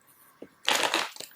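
Tarot cards are shuffled in a short riffle, a quick papery flutter with a couple of soft taps before and after.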